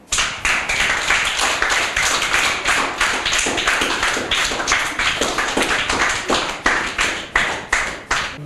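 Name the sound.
audience applause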